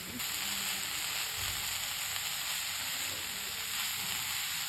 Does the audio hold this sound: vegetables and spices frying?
yes